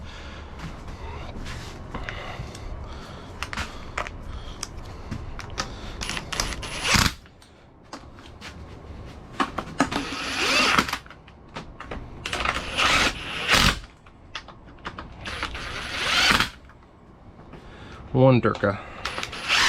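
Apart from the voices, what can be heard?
torque wrench tightening bolts on Jeep 231 transfer case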